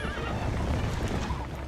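Epona, the horse in the video game The Legend of Zelda: Twilight Princess HD, lets out a short whinny against dense game sound and clip-clopping hooves, loud and close.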